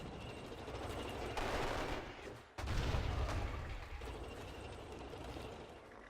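Tank unit attacking in the strategy video game Civilization V: a dense, sustained burst of gunfire and mechanical rattling with a heavy low-end blast partway through, loud and continuous with no talking.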